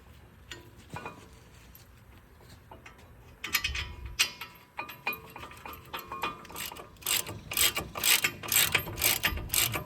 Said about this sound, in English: Tighten these caliper bracket bolts back down, 18mm.